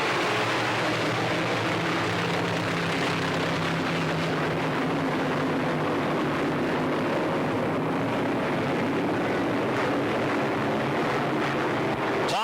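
Modified race cars thunder around Pittsburgh Motor Speedway in a 1997 15-lap UMP feature, a loud continuous roar of many engines that swells and stays dense throughout.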